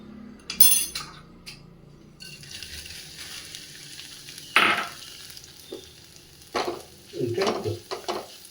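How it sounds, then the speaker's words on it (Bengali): Flattened rice frying in ghee in a pan, with steady soft sizzling under scattered stirring scrapes and metal clinks from a spoon against the pan, a few louder knocks standing out. "ঘি দিয়ে চিড়ে ভাজা।"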